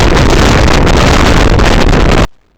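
Loud, steady roaring wind noise from riding a motorcycle at about 40-45 mph near Goodyear, Arizona, a continuous blast that cuts off abruptly near the end.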